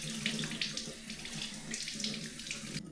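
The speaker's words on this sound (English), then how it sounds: "first thing I want to do is to give the fish a good wash." Running tap water pours steadily into a sink as a trout is rinsed beneath it, a close, continuous splashing hiss that cuts off abruptly near the end.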